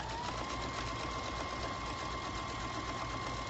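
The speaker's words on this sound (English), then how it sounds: "I keep my machine on a nice even stitch, not too fast" A sewing machine stitches a decorative pillow cover at a steady, moderate speed, its motor humming in one continuous, even run with a faint high whine, no voices over it.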